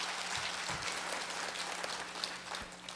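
An audience at a public forum marking a development corporation's 20th anniversary in Jeju applauds after a lecture, giving a soft, steady wash of many hands clapping heard faintly from a distance.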